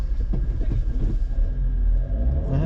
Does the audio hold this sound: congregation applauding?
no